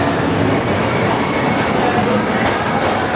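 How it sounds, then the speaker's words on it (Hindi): Nizamabad Pandharpur Express train at platform 2 of Hazur Sahib Nanded railway station, a loud, steady rumble of rail noise, with people speaking underneath it. "प्लेटफॉर्म नंबर 2 पे आ चुकी है निज़ामाबाद पंढरपुर एक्सप्रेस"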